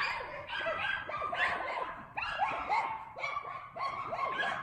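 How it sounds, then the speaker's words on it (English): Several big dogs bark excitedly as horses move around nearby, a rapid, overlapping run of loud barks and yips continuing without pause. "The big dogs are having a fit because the horses are moving around."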